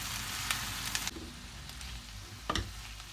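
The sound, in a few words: onions with red and green peppers sautéing in a pan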